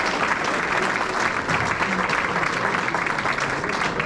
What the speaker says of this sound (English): Give everybody a round of applause for helping out.